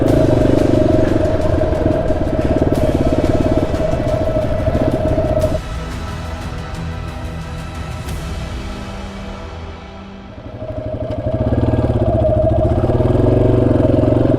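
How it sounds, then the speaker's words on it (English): A dual-sport motorcycle engine drones loud and close while riding a rough rocky off-road canyon trail in New Mexico, with rattling clatter from the bouncing bike; the engine briefly eases and drops before surging back up. "Your bike is just gonna be bouncing around everywhere."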